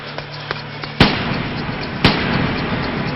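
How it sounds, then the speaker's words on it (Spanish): Two sharp, booming gunshots ring out about a second apart in the Argentine Senate chamber, each followed by a rumbling echo in the reverberant room. "Varios disparos retumban en la Cámara del Senado"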